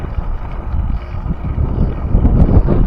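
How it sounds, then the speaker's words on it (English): Steady wind buffets the microphone on an outdoor ride through grassy meadows, a continuous low rushing roar that swells slightly louder toward the end, with no talking. "There's about a 10-mile-an-hour wind."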